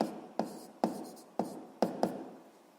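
Pen or marker strokes writing a physics formula on a board or paper, several sharp tapping and scratching strokes in an irregular rhythm, close and fairly quiet, with no talk.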